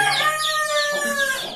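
A hen clucks and calls in a series of rising, bright notes close by, out with her chicks, with a steady hum underneath.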